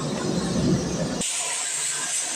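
A pressure cooker holding black chickpeas, potato and bay leaf vents steam, a broad rushing blast that cuts to a thinner, high-pitched hiss partway through; no one speaks.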